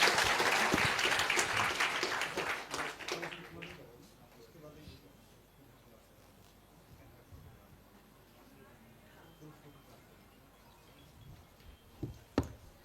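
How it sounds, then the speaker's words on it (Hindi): A school audience breaks into loud applause that swells and then fades after a few seconds, followed by quiet room noise with scattered claps and a few sharp knocks near the end. "एक बार जोरदार तालियां आप लोग"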